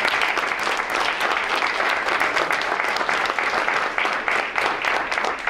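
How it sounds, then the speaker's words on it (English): Audience applause at a school district board meeting, a dense, steady wash of clapping from a full room that holds evenly loud for the whole stretch with no talk over it. "I want to take a minute and give them all a round of applause for their work on our behalf"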